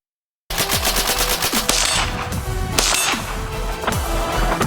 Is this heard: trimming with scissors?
no